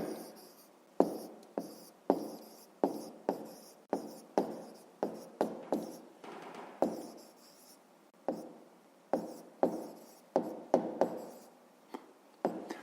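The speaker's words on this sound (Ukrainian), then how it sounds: "Пишемо відповідь. Ну і записуємо, власне, Федоренко Федір." Pen strokes on paper as an answer is written out by hand, a quick series of short scratchy bursts with brief pauses between words, close and fairly quiet, with no voices.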